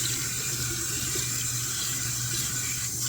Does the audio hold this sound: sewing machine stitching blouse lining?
no